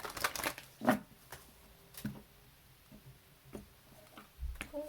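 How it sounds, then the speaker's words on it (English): Tarot cards are shuffled by hand in a quiet room, giving a few soft papery riffles and scattered light taps and clicks spread over several seconds. "One more shuffle for Libra."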